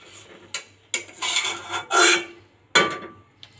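Cooked banana filling scraped from a pan onto a plate, with a few loud metal-on-pan scrapes and rasping pushes in short separate bursts, close up and without talk.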